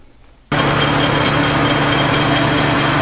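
A lathe starts up abruptly after a moment of quiet and runs at a loud, steady whir, turning down the first two inches of a coupling nut for a 50-ton axle puller.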